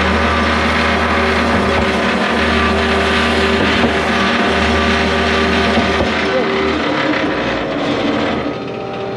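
Putzmeister concrete boom pump running loud and close: a constant heavy engine drone with a rhythmic low pulsing throughout, easing slightly near the end.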